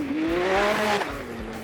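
A Jimco buggy racing across open country in Wentworth Shire, engine note climbing and falling as it passes close, with a whining tonal sweep and gravelly tyre noise over about a second and a half.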